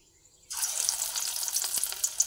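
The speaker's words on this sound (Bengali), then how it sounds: "এক এক করে তেলের মধ্যে আমি এইবারে কাঁকরোলের বড়াগুলো দিয়ে দিচ্ছি।" Teasel gourd fritters dropped into hot oil in a wok, the frying bursting on after a brief hush into a steady close sizzle with small crackles and pops, no voices.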